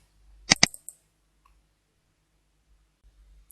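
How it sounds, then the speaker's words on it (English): A computer mouse double click, two sharp quick clicks close together, then near silence with a faint later tap. "Double click."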